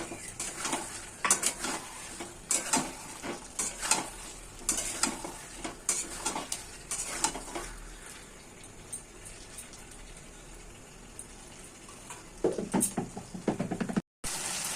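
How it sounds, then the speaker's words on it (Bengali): A spoon scrapes and knocks in a pan as fried eggs are stirred into a simmering egg curry, in repeated close clatters over a low sizzle, then a short burst of stirring near the end. "এখন আমি ভেজে রাখা ডিমগুলো সব দিয়ে দেবো। ডিমগুলো দিয়ে আবার নাড়াচাড়া করবো।"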